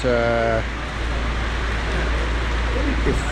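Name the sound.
rain falling at a petrol station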